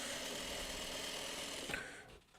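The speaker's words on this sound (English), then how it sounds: "let me sew this one last piece on" A sewing machine stitches the last piece onto a quilt block with a steady, fast mechanical whir, close by. It slows and cuts off near the end.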